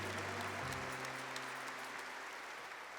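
Congregation applauding during a Catholic Mass homily, a broad, steady wash of clapping from many hands in a large hall, fairly faint and continuous throughout.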